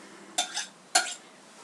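A knife run around the sides of a cake tin for a madeira cake gives two short, bright metallic scrapes about half a second apart, close and clear against a quiet room.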